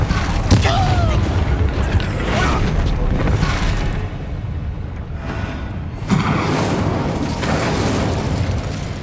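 A Bombarda spell explodes in Hogwarts Legacy with a loud, sharp blast near the start, followed by booming, rumbling game sounds and a second burst near the end, all set over a dense background mix.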